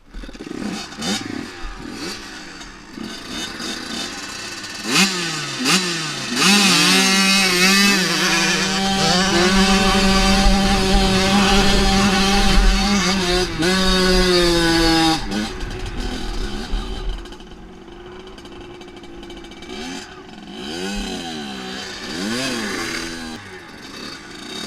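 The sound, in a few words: kid's dirt bike engine being throttled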